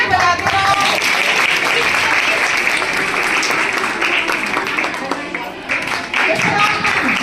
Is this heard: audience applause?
yes